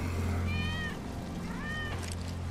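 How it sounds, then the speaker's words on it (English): A cat in the Final Fantasy 7 Remake video game gives two clear rising-and-falling meows, close and distinct, over a low steady background hum of game ambience. "That's Wedge's cat."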